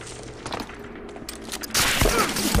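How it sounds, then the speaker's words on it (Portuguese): Rapid gunfire in the video game Medal of Honor: Allied Assault crackles in bursts over a busy background, growing louder and denser toward the end, with a voice briefly audible. "Foi muita coisa, foi tiro."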